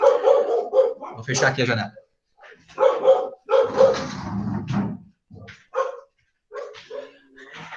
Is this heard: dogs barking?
yes